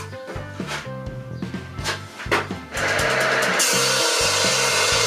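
A power saw with a warped blade whirs and stutters in short bursts, then runs steadily at full speed, loud and close, with no voices.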